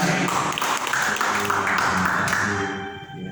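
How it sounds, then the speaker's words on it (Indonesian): A church congregation clapping and applauding during a worship service, a dense, lively burst of hand claps that carries on for a few seconds before fading toward the end. "sekali lagi boleh tepuk tangan buat Tuhan kita"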